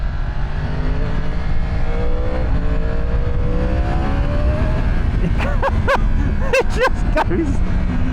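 A Yamaha R1 motorcycle with its CP4 engine revs and pulls hard while riding, a rising throttle note with sharp bursts near the end, under wind rush and a talking voice.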